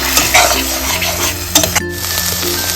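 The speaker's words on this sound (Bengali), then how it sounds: "টমেটো আর শুকনো লঙ্কা পেস্ট দিয়ে দেবো এটা যতক্ষণ না টমাটোর কাঁচা গন্ধটা যায় ততক্ষণ পর্যন্ত এটাকে ভাজতে হবে" Tomato and dried chili paste for cauliflower Manchurian fries loudly in a pan, a close steady sizzle broken by a few scraping stirs and clinks of a utensil against the pan.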